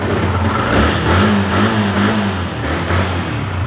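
A motorcycle engine runs smoothly at a used motorbike dealership, with a steady, close, even hum that swells slightly partway through.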